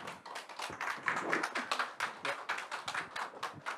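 Audience applause welcoming a lecturer onto the stage at a real estate brokerage workshop: steady, dense clapping from a seated crowd, moderately loud and continuous throughout, with no speech over it.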